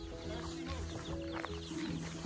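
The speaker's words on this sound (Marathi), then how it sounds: "कोंबड्या" Chickens cluck close by in a Konkan village, with several short overlapping clucks and calls over a steady outdoor background.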